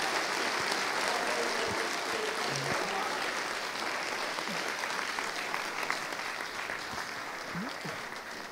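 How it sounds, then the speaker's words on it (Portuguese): A church congregation applauds loudly and steadily, dense clapping filling the space for several seconds, with faint voices underneath. "Você pode aplaudir bem forte?"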